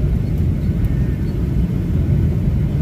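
An airliner lands at an airport in the UK, heard from inside the cabin as a loud, steady low engine and airframe rumble that continues without a break.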